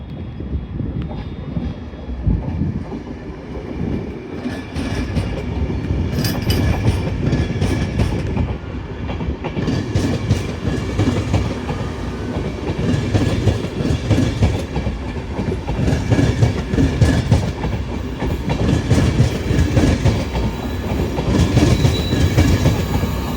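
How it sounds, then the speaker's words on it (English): An LNER Intercity 225 set departs Doncaster on the East Coast Main Line, a loud, steady roar of traction and rolling carriages with rhythmic wheel clatter building over the platform. "Departing now, show 11:15 at LNER Intercity 225 set from Leeds to London King's Cross."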